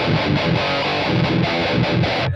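A heavily distorted electric guitar plays through a tube amp into a Vintage 30 speaker, miked with a 57, in a loud, dense, chugging riff with rhythmic palm-muted pulses throughout.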